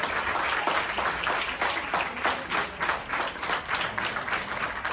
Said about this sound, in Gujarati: જોરદાર તાળીઓ થઈ જાય પાંચે જણા